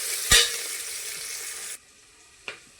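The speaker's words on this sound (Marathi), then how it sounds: "कांदा पण फ्राय होत आलेला आहे" Onions frying in a pan for khichadi give a steady broadband sizzle, broken by a sharp clatter near the start and a brief knock later. The hiss drops away abruptly partway through, as though the heat or the mic was cut.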